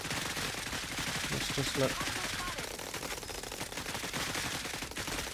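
Steady rattling machine-gun fire in the strategy game Cepheus Protocol, continuous and fairly distant under dense battle noise, while someone talks over it.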